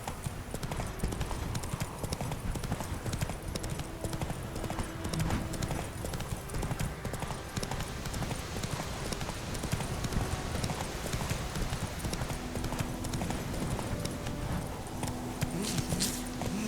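In The Witcher 3: Wild Hunt, a horse gallops with a fast, continuous clip-clop of hooves at close range over a steady outdoor ambience, with a faint whinny.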